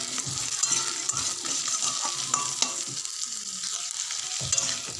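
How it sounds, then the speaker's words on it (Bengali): Diced potatoes fry with browned onions in a pan, a constant sizzle broken by repeated close scrapes and knocks of a spatula stirring through them, with no talk. "এবারে ডুমো ডুমো করে কেটে রাখা আলুটা আমি এর মধ্যে দিয়ে দিচ্ছি"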